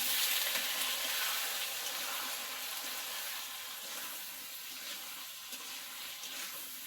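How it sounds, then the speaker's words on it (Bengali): Potatoes frying in hot oil give a steady, broad sizzle that fades slightly as it goes on, with no voices. "এবার আলু ভাজি করবো।"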